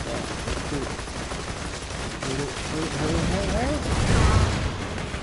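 Gunfire in Borderlands 2, rapid shots rattling in a dense stream beneath game sound effects and background chatter, building slightly toward the end.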